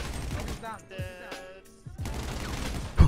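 Automatic gunfire in GTA 5 roleplay, a rapid fusillade of close, loud shots in short bursts, broken by a brief pause and ending in a heavy thump, over busy game noise.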